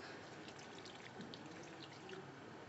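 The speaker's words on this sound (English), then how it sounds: "we're gonna add some water in this" Water poured into a pot of chicken stewing on the stove, a steady soft splashing pour that runs the whole time, fairly faint, with no voices.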